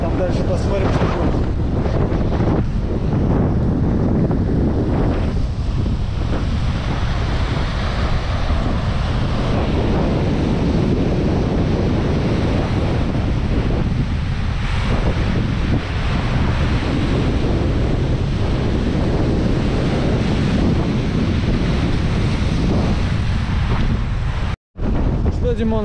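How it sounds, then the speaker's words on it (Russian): Strong wind batters the microphone on a rocky seashore, a loud, continuous roaring rumble with surf mixed in that barely lets up across the whole stretch, with voices faintly present beneath it. "Да, ветер сегодня сильный."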